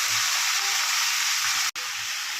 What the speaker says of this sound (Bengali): এটা খানিকক্ষণ ভাজতে হবে।